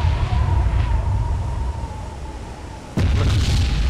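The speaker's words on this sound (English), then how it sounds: "Must be the boilers exploding." Ship boilers blowing up in Silent Hunter III, a WWII submarine game: a sustained low rumbling roar that fades, then a sudden loud blast near the end with a broad crackling burst.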